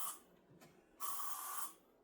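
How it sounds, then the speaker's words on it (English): Two close bursts of Old English furniture polish sprayed from an aerosol can onto real wood furniture in a home living room: a short hiss, a brief pause, then a longer steady spray. "I love Old English for my real wood. So I'm just going to spray this."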